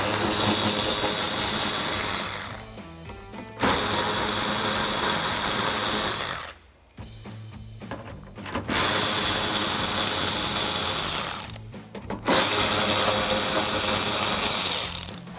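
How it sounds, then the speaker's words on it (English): A power tool fitted with an 8mm socket drives screws out of the inner wheel well liner of a 2019-2023 RAM 1500, loud whirring bursts of several seconds each, separated by short pauses. "I'm gonna use my 8mm socket to remove some of the screws here on the inner wheel well"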